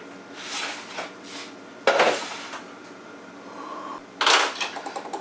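Washing sausage-making tools after use for homemade bratwurst: dish and utensil clatter comes in two sharp bursts of clanking against metal and wood, with quieter rinsing and handling noise between them, close by.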